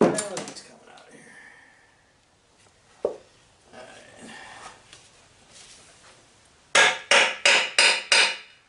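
Several sharp metallic blows from a hammer on lawn mower parts ring out in a quick series near the end, after scattered clanks and quiet handling noises, during scrapping.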